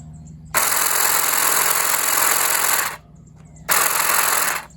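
Buzzing motor of a Saker cordless hedge trimmer revs steadily for a couple of seconds, cuts off, then runs again in a second shorter burst, loud and close.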